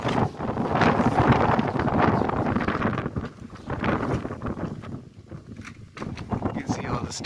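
Gale-force wind storm battering a beach house in Sandbridge, Virginia at night, a loud continuous roar with gusts that swell and ease, while a person talks over it throughout.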